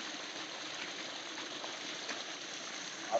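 River water flows in a steady, continuous rushing wash, even and moderately loud throughout, with no voices heard.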